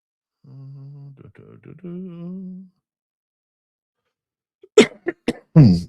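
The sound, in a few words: coughing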